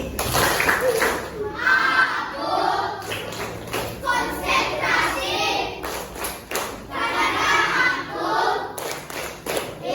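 A classroom of children doing the concentration clap, rhythmic group hand claps in short patterned bursts mixed with the children chanting together.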